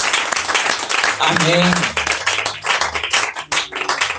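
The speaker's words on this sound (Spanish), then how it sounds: "Denle un aplauso fuerte al Señor." A church congregation claps and cheers in a dense burst of applause, with a voice calling out over the clapping and voices shouting in the room.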